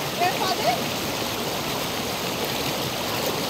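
A mountain stream near Mirik flows steadily over rocks, a dense, even rush of water heard close up throughout, with faint voices barely audible beneath it.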